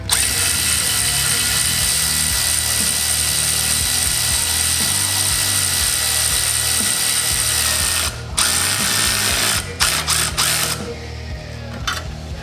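Valve spring compressor tool being tightened down on LS engine valve springs, a loud close run of rapid ratcheting clicks and metallic cranking, with a few brief pauses and clunks toward the end.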